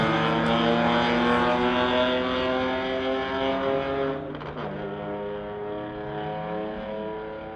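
A 2001 BMW and a 2016 Audi in a street-legal drag race, a loud sustained engine drone with rising and falling pitch as the cars pull away, fading slightly and shifting as they pass.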